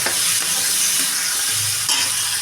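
Vegetables fry in hot oil in a wok, a steady hissing sizzle with a faint stir or scrape partway through; no voices.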